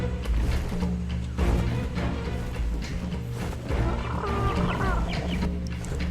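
Clucking, chicken-like bird calls in the Ark: Survival Ascended game sound over a steady low in-game hum, with a few brief thuds mixed in.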